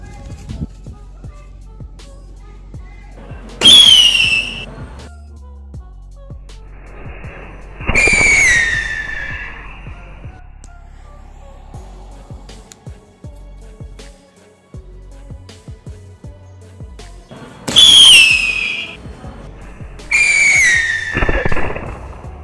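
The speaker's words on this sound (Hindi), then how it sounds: "तो चलिए अब स्काई शॉट को टेस्ट करते हैं।" A homemade sky shot made from bijli crackers launches four times outdoors, each a loud whooshing, whistling burst lasting about a second, with quiet pauses between and faint background rustle.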